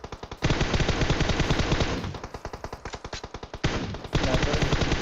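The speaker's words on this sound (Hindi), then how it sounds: "फिर भी गोली चलाए जा रहे हैं गाड़ी पे।" Rapid bursts of automatic gunfire rattle loudly and continuously, with short gaps between volleys, aimed at a car in PUBG Mobile, sounding like a video game firefight.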